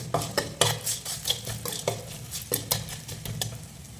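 Repeated scraping and stirring in a pan while sautéing with turmeric for lemon rice, with utensil clinks against metal and a faint sizzle underneath, steady and close.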